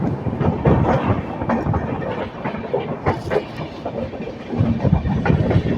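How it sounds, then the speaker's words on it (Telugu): The Janmabhoomi Express passenger train on the Visakhapatnam line runs past close by, a loud continuous rumble with rhythmic clattering of wheels over rail joints and no talk. "జన్మభూమి ఎక్స్ప్రెస్ అది."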